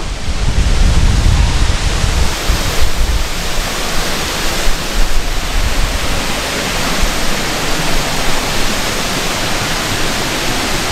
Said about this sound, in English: There is actually two waterfalls here at Munduk.